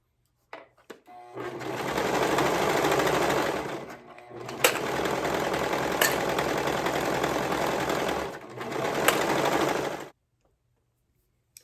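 A domestic sewing machine stitches shoulder seams in bursts, giving a close, steady whirring hum with brief pauses and clicks between runs.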